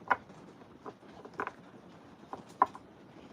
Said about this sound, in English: Can y'all hear the rain?